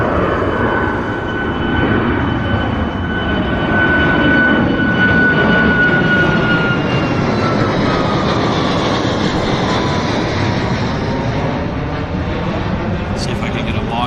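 An Aeromexico 737 airliner takes off at Vancouver airport and retracts its landing gear, a loud, steady jet roar sustained throughout with a slowly sliding engine whine, heard from the airport perimeter.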